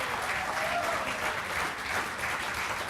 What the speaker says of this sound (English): So give Frank a round of applause.